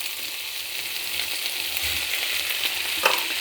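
Tomatoes fry in a shrimp stir-fry with garlic, onion and ginger, giving a steady, close broadband sizzle with a faint stir or clink near the end and no voices.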